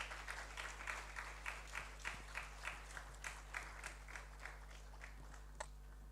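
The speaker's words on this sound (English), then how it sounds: "with a round of applause, shall we welcome Honorable Bright Reku Grobo." A seated audience at a Ghana Statistical Service report launch event gives faint, distant applause with a regular clapping rhythm that fades out toward the end.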